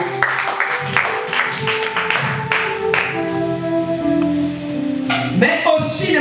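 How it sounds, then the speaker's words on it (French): A congregation at a spiritual combat and deliverance seminar clapping in acclamation of Jesus Christ, with sharp rhythmic claps mixed with sustained tonal voices or music. "On acclame Jésus-Christ."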